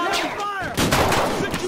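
Gunfire from the video game Battlefield Hardline: a dense, loud stretch of shots and blasts, heaviest in the second half, with overlapping bursts and no clear pauses between them.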